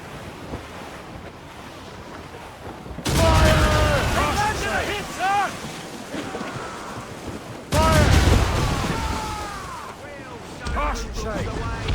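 Naval battle in Assassin's Creed Rogue, with heavy booming cannon volleys over crashing ocean waves and wind on deck, where broad loud blasts burst out in two main salvos amid shouted voices.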